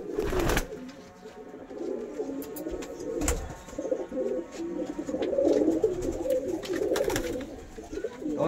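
A tiger female pigeon coos in low, repeated throaty bursts close by, with a few sharp knocks and flutters mixed in against a quiet home background.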